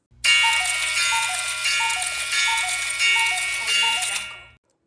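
A cuckoo clock plays a bright, steady mechanical chiming pattern with repeating tinkling notes, loud and close, running continuously for several seconds before stopping abruptly, with no voices.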